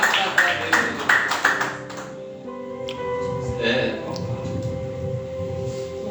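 A church congregation claps in a quick, steady rhythm for about two seconds. The claps then fade under a voice and sustained tones.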